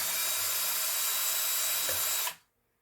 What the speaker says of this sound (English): I'll add the Kiesel's sole and stir that up with the whip and the drill.